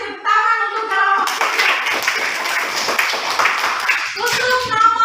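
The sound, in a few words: clapping for a student group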